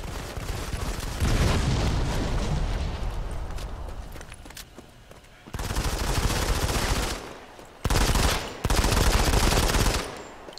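Bursts of automatic gunfire crackle in the mobile shooter Modern Combat 5 during a free-for-all match, several loud sustained volleys separated by short gaps.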